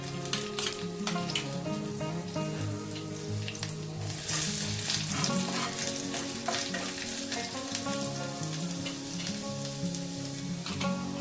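Chopped garlic frying in hot oil in a pan, a steady loud sizzle that holds throughout with a tonal hum running under it and no talking.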